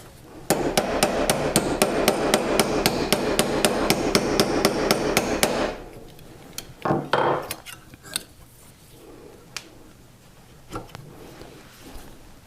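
A hammer strikes a metal bracelet on a Durston bracelet forming kit in a fast, even run of ringing blows for about five seconds. A few scattered taps and handling sounds follow.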